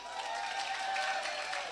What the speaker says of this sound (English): Why don't you clap for yourselves?